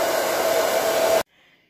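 An old hair dryer blows with a loud, steady whirring roar, then cuts out abruptly, leaving a faint hum.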